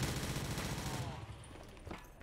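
Rapid gunfire in a zombies video game, a dense continuous burst of automatic shots up close that cuts off partway and leaves a quieter tail.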